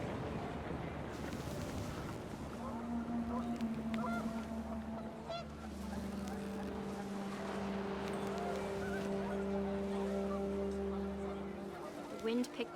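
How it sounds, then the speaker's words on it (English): Panicked geese honk in gusty wind within the game What Remains of Edith Finch, several calls overlapping and sustained at steady loudness under a constant low background drone, with spoken narration running alongside. "The wind picked up and panicked geese appeared and quickly went."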